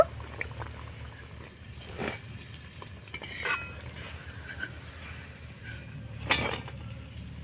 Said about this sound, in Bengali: তো নাস্তা টিফিনগুলোকে আমি একইভাবে ভেজে নেবো